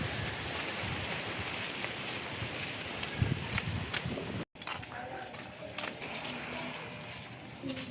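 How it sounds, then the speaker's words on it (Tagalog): Strong wind blows outdoors, buffeting the microphone with a continuous rushing roar and gusty bumps, briefly cutting out midway before resuming, with faint voices in the background. "Ang lakas ng hangin."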